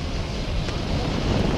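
Saturn V rocket engines igniting at the Apollo 4 launch pad, a steady, dense broadband roar with heavy low rumble and wind-buffeted noise, sustained and loud throughout.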